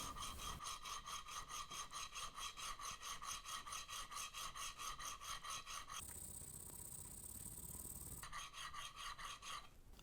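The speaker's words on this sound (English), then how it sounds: "I'll start with my coarsest stone and I'll work the back of it" A brand-new chisel's back is worked on a coarse sharpening stone with steady, rhythmic back-and-forth rasping strokes, close and fairly loud, briefly pausing into a smoother continuous scrape before the strokes resume.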